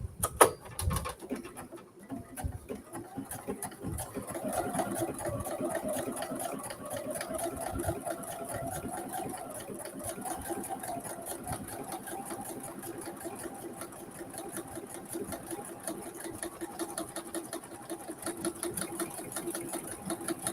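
A home sewing machine stitching steadily once thread caught under the throat plate has been freed, with a fast continuous mechanical whirring and clatter close by throughout, with no talking.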